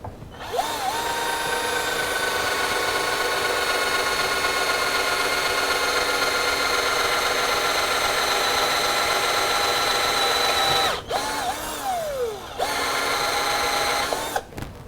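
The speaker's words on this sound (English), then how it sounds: "make sure you drill that" A power drill boring into wood while turning a ring bowl, a loud continuous whine at steady speed that briefly stops and restarts twice near the end.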